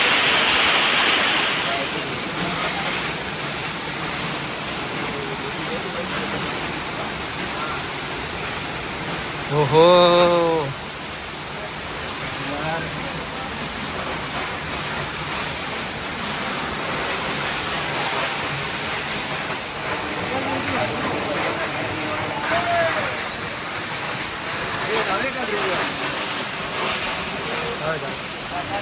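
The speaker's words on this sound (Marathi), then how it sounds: "धबधब्याचा फ्लो वाढलाय बघा" A heavy waterfall, swollen by rain, roars in a broad steady wash in the hills near Khopoli; people talk briefly under it and a whooshing sweep passes midway.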